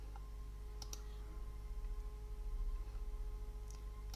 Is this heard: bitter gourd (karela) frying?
no